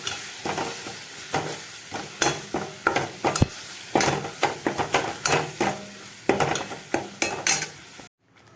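Ground masala for a Sunday mutton gravy sautéing in a pan, with steady sizzling frying noise broken by repeated sharp scrapes and clinks of a spoon stirring against the metal, close and fairly loud, ending abruptly.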